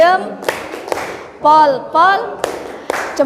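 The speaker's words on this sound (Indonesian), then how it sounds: "Tepuk jempol." Classroom of students doing a rhythmic chanted clap cheer, sharp, loud hand claps landing in a patterned beat between voices calling out in unison.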